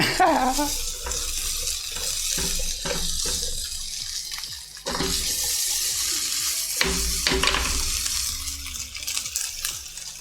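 Omurice cooking in a frying pan, a steady hissing sizzle that persists throughout, broken by scattered clinks and scraping sounds.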